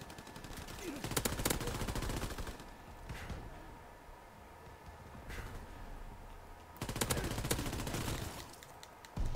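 An M1941 rifle set to rapid fire in Call of Duty WWII multiplayer lets off two long, dense bursts of automatic shots, separated by a quieter stretch with a few isolated cracks, and ends with a brief final shot.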